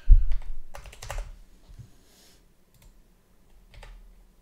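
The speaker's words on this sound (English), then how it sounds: "type our text." Keys clatter on a computer keyboard as text is typed, with a dense burst of clicks at the start that thins to a few scattered taps and then quiet.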